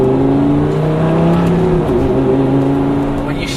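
A Lamborghini Gallardo with no mufflers accelerates at night, its loud, steady engine note holding and rising from close inside the car, with no talk over it.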